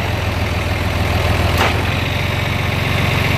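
An old John Deere tractor engine with 7,000 hours idles at a steady, even chug, close and continuous, with no talking over it.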